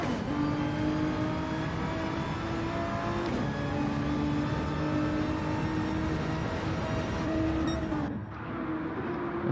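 Engines of GT1 race cars, among them a Nissan and a Pagani, rev and whine steadily through a turn in a racing video game, loud and continuous with a dip near the end.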